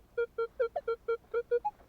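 Minelab X-Terra Pro metal detector giving a target signal on frozen ground: a run of about nine short, evenly spaced electronic beeps, mostly at one pitch with a higher one near the end, clear and close with no talk.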